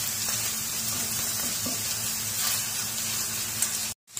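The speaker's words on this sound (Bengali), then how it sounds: "আমি চিকেনগুলা এর মধ্যে ঢেলে দিব, দিয়ে একটু হালকা করে ভেজে নিব" Chicken pieces frying lightly in hot oil for a chicken and vegetable dish give a steady, close, continuous sizzle with no talk, cutting to a moment of silence near the end.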